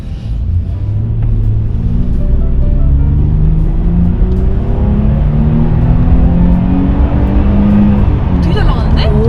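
A Mercedes-Benz S350L accelerates smoothly on the road, its deep engine rumble and road noise steady and heavy inside the cabin, with rising engine tones under continuous conversation.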